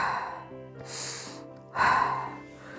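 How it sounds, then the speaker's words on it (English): Slow, deep breaths drawn in and let out during a beginner Pilates mat stretch with the knee pulled toward the nose, two long airy exhales close to the microphone with quiet pauses between them. "3 deep breaths here."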